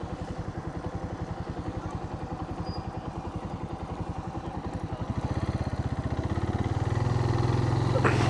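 A Suzuki TU250x motorcycle engine thumps in a rapid, even pulse from the rider's position, rising in pitch and loudness as it pulls away toward the end.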